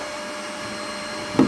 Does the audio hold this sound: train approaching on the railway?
no